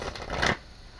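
Halloween oracle cards being shuffled in a brief, close riffling burst that ends abruptly, with no talk.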